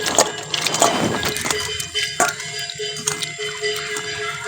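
Fish being washed by hand in a little water, splashing and sloshing up close, with clinks and scrapes of a bowl and short drips between, and no talk.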